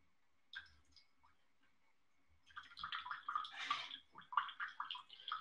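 Water from a kettle pours into a pour-over coffee brewer for a holiday blend, faint at first, then a close, uneven trickling and splashing, with no one talking.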